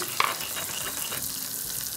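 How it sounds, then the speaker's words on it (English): Spoon stirring miso paste with water in a small bowl, a soft continuous scraping and swishing that runs throughout, close and fairly quiet, with no speech. "mix that so it's nice and liquid"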